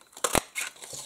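A craft paper punch stamps a small decorative shape out of a sheet of paper, one sharp crunching snap followed by lighter rustling of the paper, close and alone without talk.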